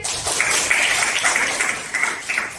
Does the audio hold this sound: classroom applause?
yes